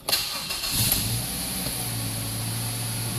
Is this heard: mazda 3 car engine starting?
yes